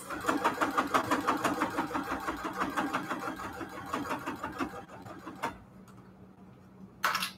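A sewing machine stitches at medium speed with a rapid, regular rattle for about five seconds and then stops, followed by a couple of brief clicks or mechanical bursts.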